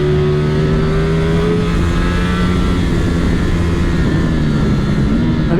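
A 2023 Ducati Streetfighter V4 S with its V4 engine, ridden hard on a race circuit; a loud, continuous engine roar with shifting pitch fills the whole stretch, close and unbroken.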